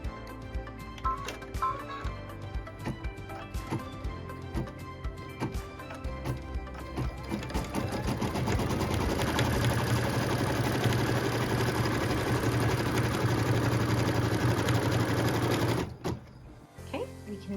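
A sewing machine stitches a pieced quilt block, its motor whirring and needle ticking rapidly, slow at first then running fast and steady before stopping, with a voice talking over parts of it.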